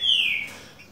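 A small caged bird in a breeding cage gives a single brief, loud, high chirp that slides downward, followed by a faint quieter tweet.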